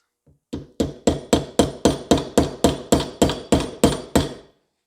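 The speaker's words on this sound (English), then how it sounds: "I'm just going to go after this metal wedge to start with the chisel and the hammer" A hammer driving a chisel against a metal wedge in an old axe head clamped in a vise, about fifteen sharp ringing metallic strikes in a steady, fairly quick rhythm, close and alone.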